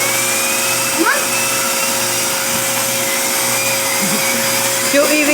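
Vacuum cleaner running steadily and loudly up close while a dog is vacuumed, a constant droning whine with brief pitch wobbles as the nozzle moves, and a few faint vocal sounds.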